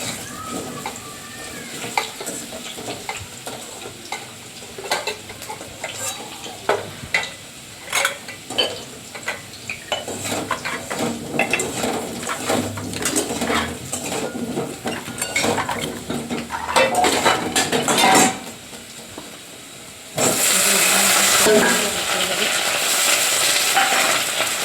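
A metal spoon scrapes and clinks against a pot as spices are stirred into half-cooked rice, with irregular clatters over a soft background, growing into a louder steady hiss near the end.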